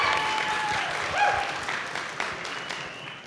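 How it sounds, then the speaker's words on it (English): Applause at a wedding toast, a steady wash of clapping hands from the gathered guests that holds at an even level for a few seconds, with a brief swell near the middle. "That deserves an applause."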